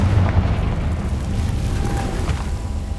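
The Confringo fire spell in Hogwarts Legacy erupts as a dense, rumbling blast that churns on continuously at a loud level without a clear single bang.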